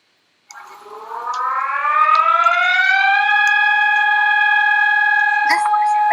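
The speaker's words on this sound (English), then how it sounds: "This one is the higher quality version of the Brazilian alarm, was used at a dam failure." Brazilian dam failure warning siren, a loud electronic wail that rises in pitch for about three seconds and then holds a steady, sustained tone, heard alone.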